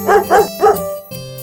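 A puppy barks three times in quick succession, close and loud, followed by a brief whiny tone.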